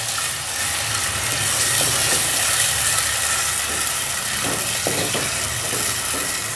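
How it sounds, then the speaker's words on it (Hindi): Onions frying in hot ghee, a loud continuous hissing sizzle with occasional faint clinks of a utensil against the pan. "घी गर्म होने के बाद अब इसमें डाल देंगे प्याज। अब इसको थोड़ा सा फ्राई करेंगे।"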